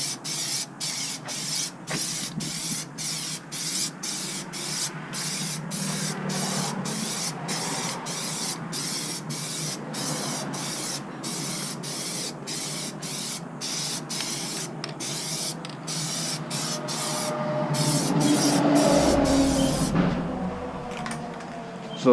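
Aerosol cans of white pearl Plasti Dip are sprayed onto car rims in a long, steady hissing spray, broken by short pauses between passes and swelling louder near the end.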